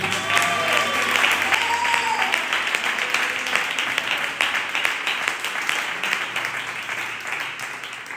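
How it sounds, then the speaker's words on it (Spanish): A church congregation applauds steadily for several seconds, dense clapping filling the room with a few voices calling out over it before the ovation gradually thins. "¿puedes darle un aplauso al Señor?"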